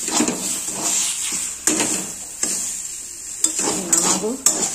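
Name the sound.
sautéing with salt and turmeric in a pan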